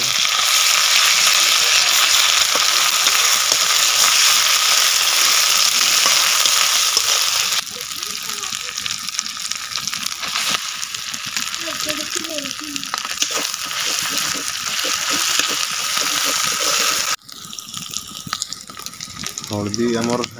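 Onions frying with ginger-garlic paste in a village kitchen, a steady dense sizzle that runs throughout, dropping somewhat in intensity partway and again near the end, with a voice talking over it.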